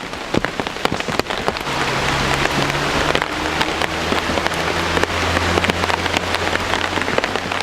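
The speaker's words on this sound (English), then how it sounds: "Even though it's raining" Steady heavy rain pattering on a surface in Keelung, Taiwan, dense and continuous throughout, with a low hum settling in after the first couple of seconds.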